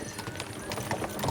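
Horses' hooves clip-clop on the ground in a medieval game, a quick, uneven run of close hoofbeats with a faint whinny amid the motion.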